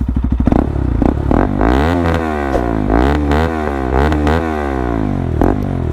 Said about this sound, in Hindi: सो गाड़ी का आइडल साउंड आप सुन सकते हैं।